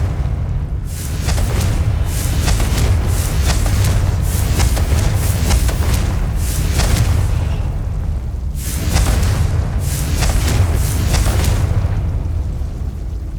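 Repeated loud, dense explosive blasts from the Confringo fire spell in Hogwarts Legacy, with rumbling low booms and bursts of crackling debris recurring across the whole stretch with no talk.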